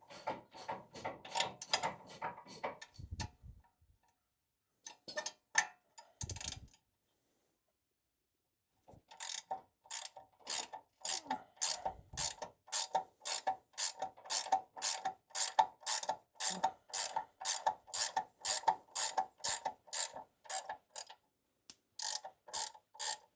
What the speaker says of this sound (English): a 21mm ratcheting wrench would be easiest